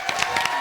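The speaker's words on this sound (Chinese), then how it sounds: "掌声欢迎佳玉" A studio audience at a stand-up comedy show breaks into brief, close clapping, a quick patter of hand claps with faint crowd noise.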